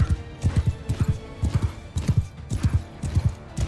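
Hooves of a wounded horse ridden in the medieval battle game Mount and Blade II Bannerlord thud in a quick, regular galloping rhythm, close and steady throughout.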